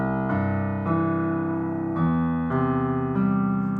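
Piano plays a series of sustained, widely spaced chords from Chopin's Prelude in C, about five rich block chords struck in succession and left ringing, loud and close, with no speech.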